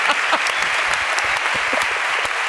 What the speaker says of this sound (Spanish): Un aplauso para Willy, por favor.